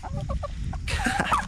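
Backyard chickens clucking and squawking close by, a few soft clucks at first, then a louder flurry of agitated calls as a hen scuffles with them.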